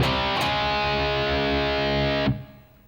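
A heavily distorted electric guitar plays a riff, a sustained thick chord ringing out for about two seconds before being cut off, loud and alone.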